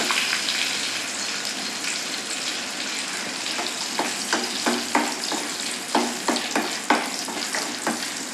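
Mustard seeds spluttering and popping in hot oil for a Tirunelveli fish curry, a steady frying hiss punctuated by a run of sharp, irregular crackling pops that grows busier toward the end, close and fairly loud with no talk.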